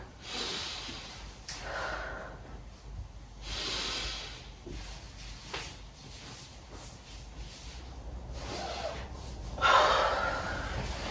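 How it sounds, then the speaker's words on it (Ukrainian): Breathing during a joint gymnastics exercise: several audible inhalations and exhalations, close and fairly soft, with a sharper breath near the end and quiet pauses between. "Підготовчий дих."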